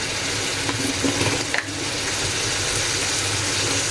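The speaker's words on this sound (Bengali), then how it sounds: "আদাটা একটু ভালো মতন ভেজে নিব।" Ginger paste fries in a pan for a fish dish cooked with olives, making a constant close sizzle with occasional stirring scrapes and a brief clatter partway through.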